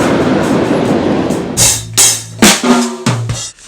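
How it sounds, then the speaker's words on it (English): A train in Douglasville rumbles past nearby with a broad roar, then loud horn-like blasts and rattling bursts sound in uneven succession before fading. "Got the train."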